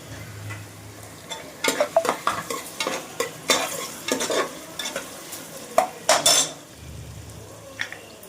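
Onions and tomatoes sauté for a chicken dish, with steady frying sizzle under repeated stirring scrapes and clinks of a spoon against the pan, fairly close and continuous.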